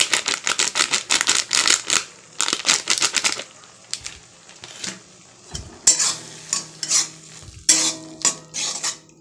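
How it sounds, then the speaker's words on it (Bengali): Softened tomato with turmeric is stirred briskly in a cooking pan, a rapid run of loud spoon clinks and scrapes over a low sizzle, pausing briefly before a second burst of strokes. "হলুদটাকে দুটো নাড়িয়ে দিই"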